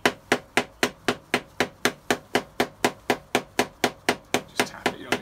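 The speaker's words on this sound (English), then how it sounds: "Just tap it, you don't need very hard, just nice and gentle." Light, even hammer taps free a part during a Toyota 4AGE engine rebuild. About twenty crisp knocks land in a steady rhythm, close and moderately loud, with nothing else heard between them.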